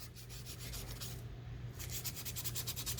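Sanding on a sculpture, a steady rasping rub with repeated strokes that continues throughout, fairly faint and close, with a short pause in the middle.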